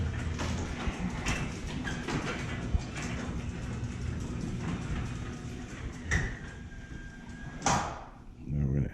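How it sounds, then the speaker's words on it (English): Garage door closing under a newly installed electric opener: a steady motor drone with rattling and clunking throughout, a few louder knocks, and a final thud as it seats. "And the door closes."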